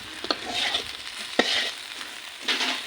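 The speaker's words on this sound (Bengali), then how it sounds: "আজকে মাছ ভাজা।" Fish fry in a pan over an open fire, giving a close, hissing sizzle broken by a few sharper crackles and stirring scrapes.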